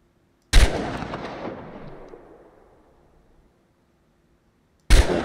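Two loud gunshots fired at targets in the Chernobylite video game, each a sharp crack followed by a long echoing decay that rolls off over about two seconds, with silence between them.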